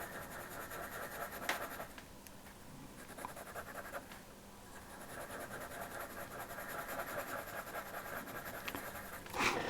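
Pastel pencil rubbed on paper in small circular strokes while drawing a horse, a soft, continuous scratchy rasp with faint rhythmic swirls and a few sharper scrapes, close and quiet.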